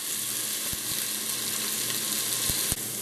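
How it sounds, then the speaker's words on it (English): A thickening roux paste for cheesy mac and bacon soup stirred in a pan, giving a soft, even sizzle with a few faint spoon taps against the pan. "So we're going to continue to stir this."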